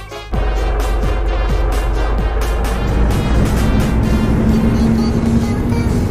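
Heavy truck engine in a video game starts up and settles into a loud, steady rumble, with a rising whine as it revs, close and continuous.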